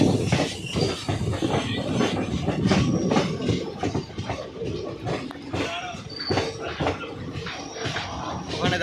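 The Amaravati Express from Kolkata rolls toward Madgaon in Goa, a loud, close rumble of wheels on rails with rhythmic clacking and rattling carriages that carries on throughout, and voices of passengers murmur faintly underneath.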